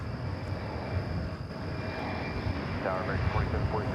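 Bombardier CRJ701ER regional jet on flight 6273 arriving from Baton Rouge, Louisiana, at Dallas Fort Worth airport, a steady distant engine drone with a faint whine, with some talk over it.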